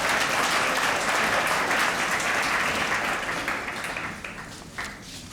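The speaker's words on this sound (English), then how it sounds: "big round of applause to all these people that honored us today being here with us" A large lunch-event audience applauds steadily, a dense wash of many hands clapping that gradually tapers off toward the end.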